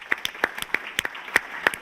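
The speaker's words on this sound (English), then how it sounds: "Let's give Black Tech Mecca another round of applause" A small audience claps in sparse, uneven bursts, individual hand claps distinct and fairly close, lasting under two seconds.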